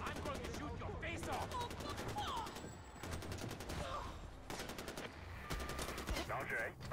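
Rapid automatic gunfire and bursts of shots in the video game Far Cry 4, loud and near, with game voices talking over the shooting throughout.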